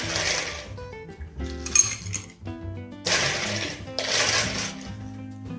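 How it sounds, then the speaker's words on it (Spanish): Crushed ice, in fairly medium-sized pieces, is scooped and poured into a glass for a Brazilian caipirinha, heard as bright rattling bursts of ice clinking against glass in several separate pours. "Llenamos el vaso de hielo hasta arriba"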